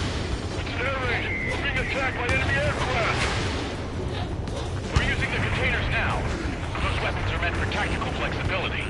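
Anti-aircraft guns fire in Ace Combat: a steady barrage of booming bursts and rumbling explosions rolls through the whole scene, with voices talking over the din.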